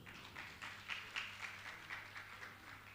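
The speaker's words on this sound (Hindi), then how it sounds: "ताली तो बजाइए आप लोग।" An audience at a religious gathering with a Jain monk applauds in honour of donors with a soft, distant patter of many hands clapping in a steady, quiet rhythm.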